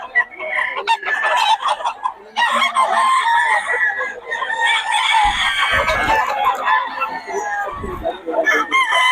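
A WPC-banded stag rooster crows loudly and close, the long strained call running over several seconds among clucking fowl, with the faint voice of someone talking mixed in.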